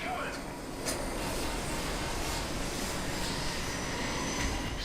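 Helicopter in the video game Call of Duty: Modern Warfare 3, a steady, loud rotor and engine roar that fills the whole stretch without pause, with voices talking over it.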